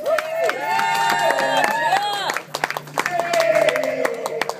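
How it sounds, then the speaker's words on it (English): A comedy audience claps and cheers with scattered whoops, a brief dip then clapping resumes, while a voice carries along on top. "A round of applause to Mr. Jeff Thomas."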